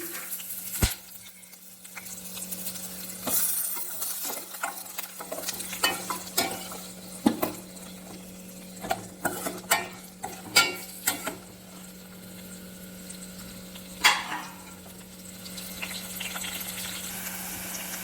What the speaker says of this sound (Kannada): ಇವಾಗ ನಾನು ಇದಕ್ಕೆ ಈರುಳ್ಳಿನ ಬೆರೆಸ್ಕೊಳ್ತಾ ಇದ್ದೀನಿ